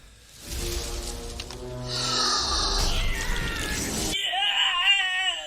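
A man screams as a dinosaur attacks and eats him in Jurassic Park, amid animal roars and shrieks; loud, rising cries with a harsh screech near the end, no talking.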